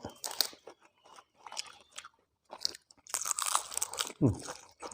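Crisp crunching and chewing of a spicy red ant egg salad made with chili and homegrown salad greens, several close bites in short bursts between pauses, with brief talk in between.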